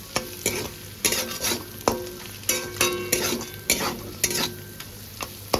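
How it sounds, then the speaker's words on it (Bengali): Fried potatoes being stirred in a sizzling pan, a spatula scraping and clattering in regular strokes about once or twice a second over a steady frying hiss. "এটা একটুখানি মিক্সড করে নিই"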